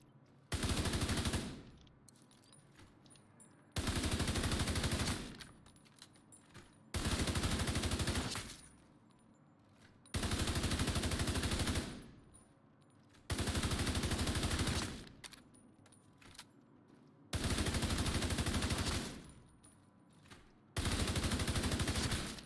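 Assault rifle bursts in a video game, loud sustained automatic fire in seven long bursts of about two seconds each, separated by short quiet pauses, with no talking.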